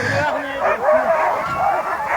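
Sled dogs at the start of a race bark, yip and whine excitedly in a dense, continuous chorus close by, with voices mixed underneath.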